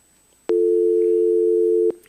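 Phone line tone as an incoming call connects at a public assembly meeting, a single steady electronic beep about a second and a half long, loud and alone against quiet hiss.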